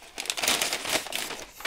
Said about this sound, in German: Na gut. Papiertüten.